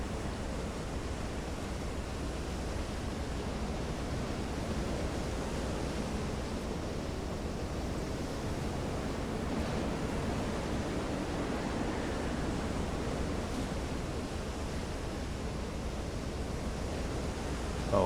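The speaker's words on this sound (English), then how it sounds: "Oh, these waves." Ocean waves in the Silent Hunter 3 submarine game roll as a steady, broad wash of surf, loud and continuous throughout with no talk.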